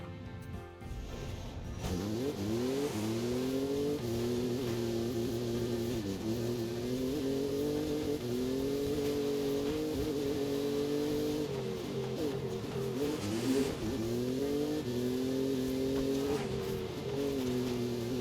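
A B-Class truck engine in Forza Horizon 5 revs and holds high through shifting gears, loud and steady from about two seconds in and running alone without talk.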